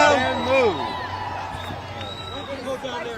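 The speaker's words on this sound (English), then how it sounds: "The crowd is growing here." Busy crowd at a May Day protest on a New York City street, with overlapping voices, shouts and whoops close around, a continuous babble with some rising calls and faint traffic beneath.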